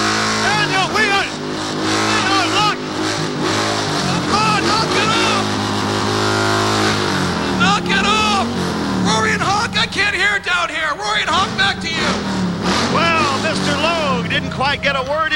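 A Harley-Davidson motorcycle engine revs loudly and repeatedly, its throaty roar rising and falling beneath several people talking over one another in a lively broadcast exchange.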